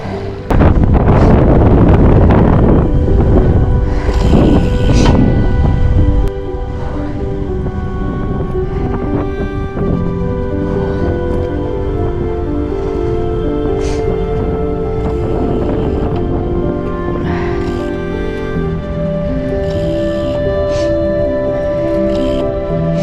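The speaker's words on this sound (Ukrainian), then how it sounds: "Вітер такий купотить нормальний." Heavy wind buffeting the microphone while riding an e-bike, in loud, rumbling gusts, strongest at the start, then a steady roar with a tonal drone underneath.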